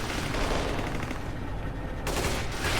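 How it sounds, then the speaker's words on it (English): Sustained gunfire from the shooter game Kane and Lynch 2: Dog Days, a dense, loud rattle of rapid shots that keeps going throughout and cuts off abruptly near the end before resuming. "sometimes they haven't killed them all, and we can tell by the gunfire"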